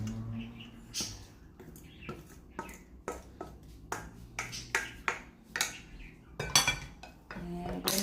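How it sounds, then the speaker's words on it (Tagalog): Sliced seaweed salad being tossed in a bowl, with sharp clinks and taps of utensils against the dish in an irregular rhythm, close and crisp over a quiet background. "Mix lang natin ang ating seaweed."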